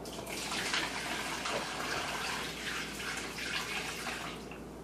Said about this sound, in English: we're going to take the chilled brine mixture and pour it over the roast